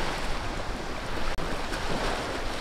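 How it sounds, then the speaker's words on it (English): Gentle surf laps along a cold, cloudy Gulf coast beach on Florida's Forgotten Coast while a light wind rushes across the microphone; the wash is soft, steady and continuous, with no voices. "it's been cloudy all day, and it's a little windy here as well"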